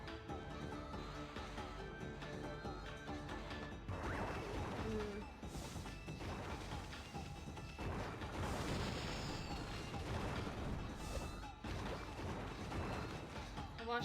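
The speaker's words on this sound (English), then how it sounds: "Do I just keep, like, bombing?" Bombs explode in the video game Ōkami, repeated heavy crashes and booms over the game's music and effects, with a player talking at times.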